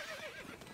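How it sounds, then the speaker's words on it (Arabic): A horse in the strategy game Stronghold Crusader gives a single short whinny, clear and fairly near. "الفرس تعدو."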